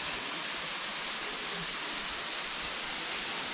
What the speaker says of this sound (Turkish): Güzel bir şelale daha gördük.